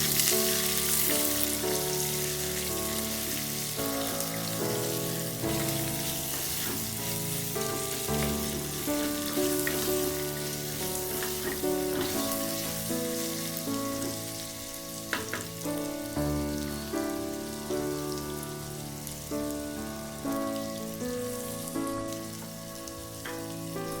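Two medium onions fry and sizzle steadily in a pan of oil for a jungle-style mutton curry, a loud, close, continuous crackle with occasional stirring and no voices.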